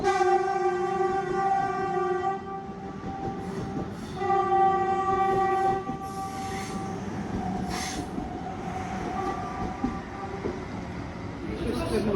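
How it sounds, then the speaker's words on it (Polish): A passenger train rumbles past at close range in Cinque Terre, Italy, its horn sounding in two long tones over steady wheel noise and clatter. "pociągi wiozące turystów z jednego miasteczka do drugiego kursują praktycznie non-stop"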